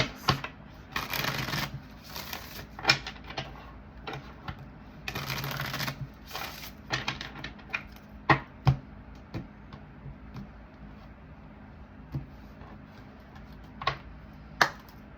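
A tarot deck being shuffled by hand: two long riffling bursts, then a string of sharp card taps and snaps, close and clear with no talking.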